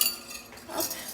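A whisk clinks and scrapes against a bowl while brioche dough with baker's yeast is mixed at home, a few light metallic taps and stirring scrapes, close and fairly quiet.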